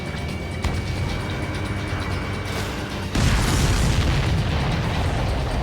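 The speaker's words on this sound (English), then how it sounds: "All of the missiles have been destroyed." A dense, roaring explosion bursts in during an aerial dogfight in the jet combat game Ace Combat 7 as missiles are destroyed, jumping sharply louder over a steady rumbling engine bed and sustaining a broad, crackling wash.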